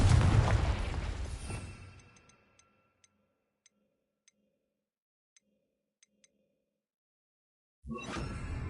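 A Confringo spell blast in Hogwarts Legacy erupts as a loud burst that rumbles and decays over about two seconds, followed by sparse faint ticks in near silence before another loud burst cuts in at the end.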